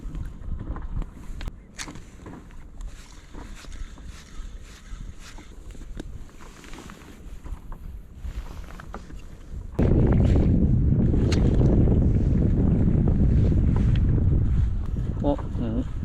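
Strong offshore wind blowing from land out to sea on the West Izu coast, roaring as steady microphone buffeting that swells much louder midway, with water and boat sounds beneath.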